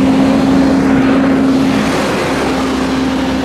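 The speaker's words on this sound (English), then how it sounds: "wait for this bus to go past" A city bus on an urban street rumbles past with a steady, loud engine drone and a sustained low hum throughout, no voices over it.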